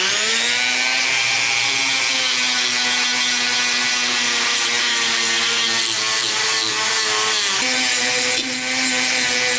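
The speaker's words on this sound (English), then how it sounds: "So where the carbide kind of cuts and leaves real heavy ridges on things, the sandpaper will smooth that out." A rotary tool with a carbide bit ports the cylinder of a Garelli SSXL NOI scooter, giving a loud, continuous high-pitched grinding whine that holds steady with slight pitch shifts for the whole stretch, with no talking.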